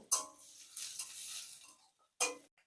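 Chopped garlic and ginger hit hot oil with dried red chillies and cumin and are stirred in a pan, a brief sizzle with scraping strokes, a pause, then another short burst.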